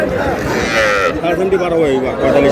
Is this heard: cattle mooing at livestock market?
yes